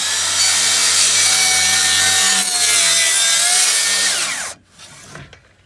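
A circular saw rips a 12-inch-long, 1.5-inch wooden wedge, a loud steady whine with blade-on-wood rasp for about four seconds, then the motor cuts off abruptly and spins down into quieter handling noise.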